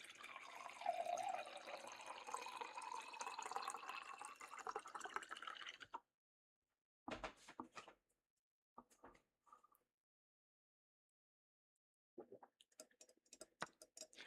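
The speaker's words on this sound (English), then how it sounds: "How about a little bit of water ASMR?" Water poured and trickling for ASMR, a steady close stream for several seconds, then near silence broken by scattered drips and small splashes, quiet overall.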